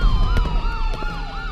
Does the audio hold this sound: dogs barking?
no